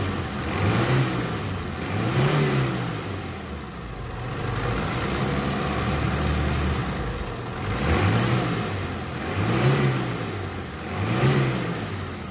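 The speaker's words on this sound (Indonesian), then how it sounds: "Ini untuk bagian mesinnya kita geber-geber di sini aja ya biar lebih kedengeran." Suzuki T120 SS minibus engine revved repeatedly, about six throttle bursts rising and falling in a steady rhythm, with a rough idle between them, close and loud with no talking.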